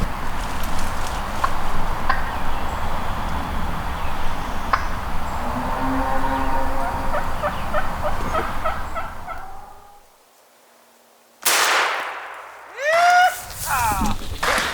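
A wild turkey gobbles repeatedly in a Florida hunting setting, the calls fairly loud amid rustling and footsteps outdoors, followed by a near-silent pause and then sharp, loud bursts.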